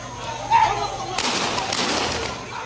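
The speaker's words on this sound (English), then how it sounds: "More shots are being fired." A sharp gunshot cracks out amid a protest in Abuja or Lagos, followed by a broad burst of further firing and crowd commotion at moderate distance.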